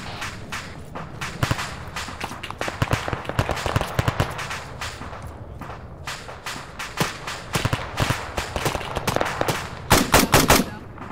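Gunfire in the ArmA 3 military video game during a Humvee ambush, with many sharp cracks and rapid bursts at varying distance that intensify toward the end.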